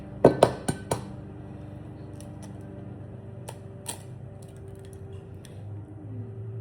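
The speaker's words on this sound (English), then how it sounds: "I really need to learn how to crack eggs" An egg being cracked for banana bread batter, several quick sharp taps against a bowl rim in a kitchen, followed by faint clinks and a low background hum, with no speech.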